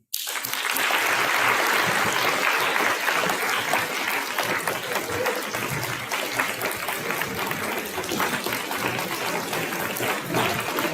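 An audience at senior speeches breaks into sustained applause, dense clapping starting abruptly and continuing loud and steady for the whole stretch, with no talk over it.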